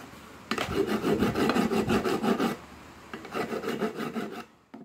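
Rhythmic rasping strokes of a hand file on a damaged ball race bearing from a Yamaha SZ motorcycle, a fast burst of close, loud back-and-forth scraping, a short pause, then a second run of strokes before it stops.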